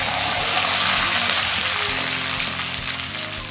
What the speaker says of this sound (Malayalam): സെയിം എണ്ണയിൽ തന്നെ ഞാൻ കുറച്ച് കറിവേപ്പിലയും രണ്ട് പച്ചമുളകും കൂടെ ഒന്ന് വറുത്തെടുക്കുന്നുണ്ട്